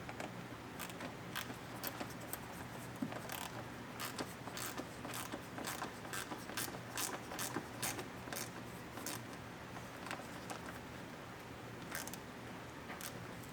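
A ratchet tightens the mounting hardware of Rokblokz mud flaps on a 2022+ Ford F-150 Lightning, giving close, rapid, steady clicking that runs throughout with no talking.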